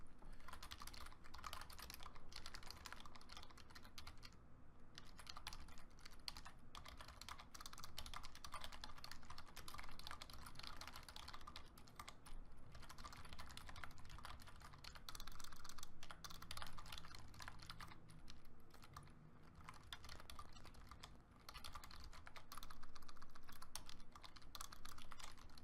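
Steady, fast typing on a computer keyboard runs for the whole stretch as a continuous quiet clatter of key taps, with no voice over it.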